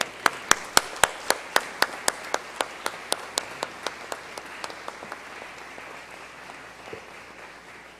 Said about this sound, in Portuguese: Peço uma salva de palmas a essa ilustre autoridade.